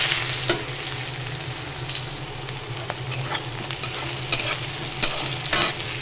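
Chopped onion fries in oil with nigella seeds, a steady close sizzle with occasional sharp spatula clicks and scrapes against the pan, no talking.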